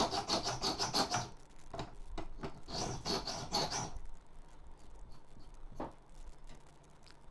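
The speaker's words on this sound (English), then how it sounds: "And some filing" Hand filing of a metal PC faceplate, a run of quick rasping strokes close up for about four seconds, then quieter scattered scrapes with one sharp stroke near the end.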